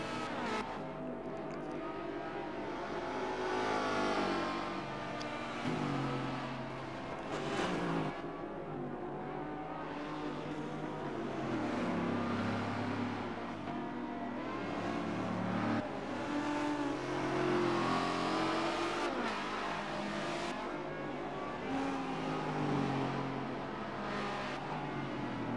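Aston Martin V8 Vantage V600 engine driven hard in the Forza Motorsport 7 racing game at Mount Panorama, a steady loud roar with rising and falling revs throughout, no talking.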